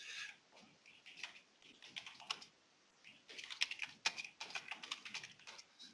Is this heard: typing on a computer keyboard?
yes